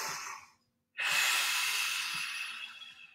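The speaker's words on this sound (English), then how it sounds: "I'm gonna do six breaths here" Deep, slow breaths during a mindful mobility iso hold: a hissy exhale fades out, a brief silence follows, then a long, steady breath streams out close to the mic.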